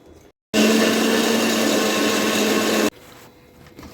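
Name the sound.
mixer grinder grinding neem leaves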